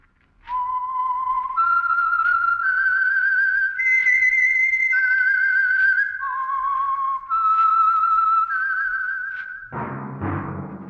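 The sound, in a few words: whistled theme tune, The Whistler radio show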